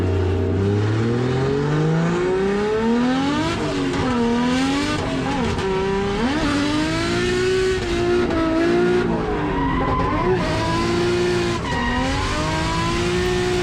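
A race car in a drift run at a state series round, its engine revving hard and swooping in pitch as the tyres slide and squeal, loud and continuous with no talk.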